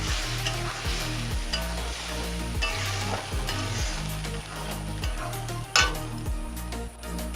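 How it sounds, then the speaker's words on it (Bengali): Spice paste for shahi paneer fries in a pan with a continuous close sizzle, broken by regular stirring strokes and occasional sharp clinks of a utensil against the metal. "ভালো করে এবার মশলাটাকে কষিয়ে নেব।"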